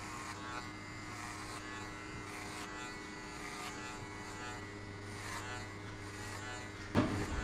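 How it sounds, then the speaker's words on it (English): An electric hair clipper buzzes steadily through a buzz cut set to a short guard, a close, constant hum held for several seconds before a brief knock near the end. "I will open the clipper to the end and I will shave everything off"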